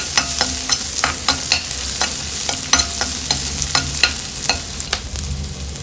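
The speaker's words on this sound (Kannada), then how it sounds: "ನೀಟಾಗಿ ಫ್ರೈ ಮಾಡ್ಕೊಳ್ಳೋಣ" Fish fries in a pan with a steady sizzle, broken by regular sharp scrapes and knocks of a spatula stirring against the metal, close and fairly loud throughout.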